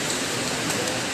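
Heavy rain pours over a town in Irosin during a busy market outing, a steady dense hiss of drops filling the whole moment evenly without pause or a break in intensity.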